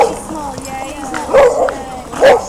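Beagles barking and yipping at a pack walk, two loud barks with some whimpering between them, close by, under talk.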